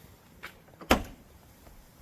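The rear door latch of a 2001 Chevrolet Silverado extended cab, its top mechanism releasing while the bottom one stays stuck, gives a single sharp click-thud, preceded by a faint softer knock.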